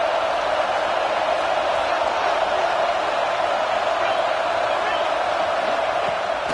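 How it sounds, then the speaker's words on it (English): Football stadium crowd at a college game between South Carolina and Missouri, roaring steadily as the defense lines up on third down; a dense, continuous wash of cheering with no breaks, loud throughout. "Decibels rising as the crowd gets behind this defense on third down."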